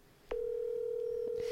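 Telephone call ringing through on a line: after a brief click, a steady, unbroken electronic tone holds at an even level to the end, alone without talk.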